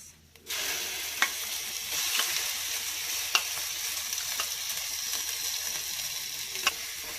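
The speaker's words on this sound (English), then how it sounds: "Just saute it little and then add this paste, finely grounded paste." Red chili powder and finely ground spice paste sizzle steadily in a hot pan, a continuous close frying hiss with a few sharp stirring clicks, no voices.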